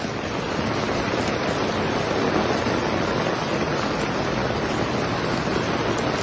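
Heavy rain pours steadily at a Dodgers versus Pirates baseball game at the stadium, a dense, unbroken hiss that stays loud and even throughout with no voices over it.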